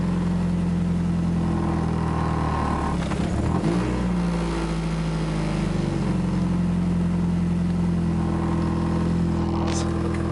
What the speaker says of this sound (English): I gotta keep giving it gas here. You see, it wants to die, and I'm giving it gas once again.